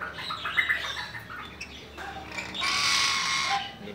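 A hungry Papuan parrot gives harsh squawks and chattering calls close by, a few rough outbursts ending in a longer, louder raspy screech.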